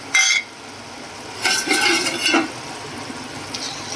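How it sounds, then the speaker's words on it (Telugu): Masala being stirred into an egg tomato curry in a pan: a sharp metal clink at the start, then a scraping, clattering stir of a spoon against the pan over a soft sizzle. "అది కూడా బాగా మసాలా కలుపుకున్నామండి"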